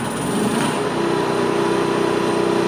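A 2018 Coachmen Prism 2150LE RV's onboard generator runs steadily after priming, a continuous small-engine hum with a high whine, loud and close throughout with no talking.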